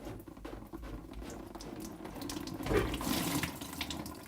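Water trickles and splashes from an unscrewed sink U-bend trap into a bucket below, a steady close pattering stream that swells slightly toward the end, with no talking.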